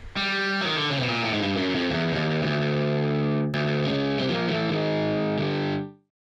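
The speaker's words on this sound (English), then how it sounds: "which I tried to recreate using distortion pedals and a special amp" A sustained, heavily distorted electric guitar tone through distortion pedals and an amp rings out loud, with a brief glitch midway before the note cuts off abruptly near the end.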